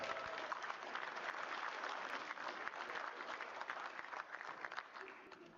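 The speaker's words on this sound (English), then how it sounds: "Let's give them a round." Audience applause at a high school athletic hall of fame induction ceremony, steady dense clapping from a crowd throughout, fairly faint and distant, with no one speaking over it.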